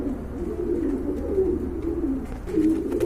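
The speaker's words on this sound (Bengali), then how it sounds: "বিগ সাইজের টপ কোয়ালিটি ফুল এক জোড়া হোয়াইট বোম্বাই দেখতে পাচ্ছেন খুবই সুন্দর কবুতর" A big, top-quality pair of White Bombay pigeons keeps up a low, throaty cooing in steady rolling waves, close and fairly loud with no talking over it.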